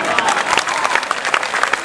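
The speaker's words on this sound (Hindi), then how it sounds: "आपने माँ के नाम पर ताली बजाई" A seated audience claps steadily at a Hindi poetry recital, a dense, close wash of many hands applauding without pause.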